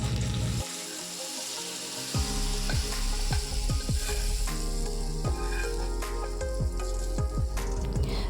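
Chilli-powder tempering poured into mango pulissery curry, heard as a loud, close, continuous frying sizzle with crackling pops running throughout.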